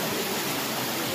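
Spring water flowing inside Harrison's Cave, a steady broadband rush that fills the whole short stretch at an even, fairly close level with no voices over it.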